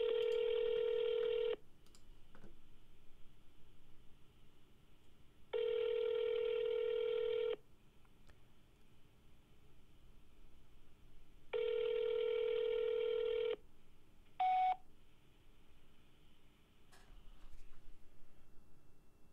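Telephone call being placed to a realtor: three long, loud steady ring tones roughly six seconds apart, each about two seconds, with a short higher beep near the end and a faint line hiss between them.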